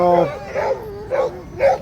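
Sled dogs gathered before a K300 race bark, yip and whine in overlapping bursts nearby, with a high howling tone at the start.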